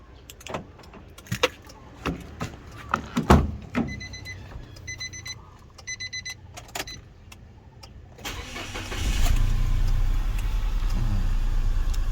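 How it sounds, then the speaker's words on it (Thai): Nissan Almera 1.2 with a stumbling engine. Clicks, key rattles and beeps come first, then the starter cranks and the engine catches into a steady, loud idle. "เดี๋ยวลองติดเครื่องดูกันก่อน"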